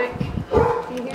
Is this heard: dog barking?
yes